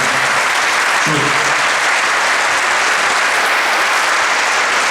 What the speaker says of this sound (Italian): fate un applauso alla mia squadra, alzatevi in piedi, consiglieri, assessori